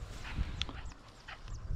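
Dogs whimper on a Sunday countryside walk, faint high whines rising in a few short bursts over rustling and outdoor background noise.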